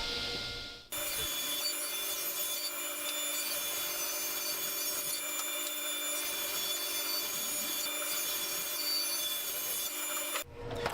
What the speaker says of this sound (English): cutting it to the lengths I needed and then running it through the joiner to get a one straight edge